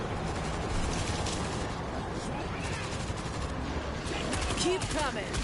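Rapid automatic gunfire from a deployed auto turret in the zombie shooter World War Z, set in Jerusalem, runs as a dense continuous fusillade mixed with other battle noise and a brief high whine near the end.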